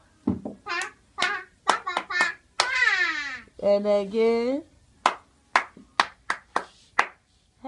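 Quick bursts of sharp hand claps, a few people applauding at home during a liquid soap-making session, come in two short runs, with a voice and other speech between them.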